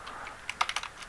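Quick, light keystrokes on a computer keyboard, a burst of about eight clicks in a short uneven run, close and clear with no talk.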